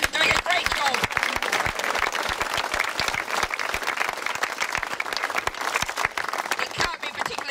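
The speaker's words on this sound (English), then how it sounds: "we should give a round of applause and a thank you to our Hen Harrier here" Steady outdoor applause from a gathered crowd at a Hen Harrier Day rally, dense clapping running continuously for several seconds with no voice on top.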